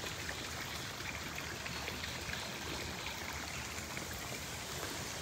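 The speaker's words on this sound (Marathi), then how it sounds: "पुढे पण पाण्याचा आवाज येतोय" Stream water flows among trees, a continuous rushing hiss that stays even and fairly quiet with no voices over it.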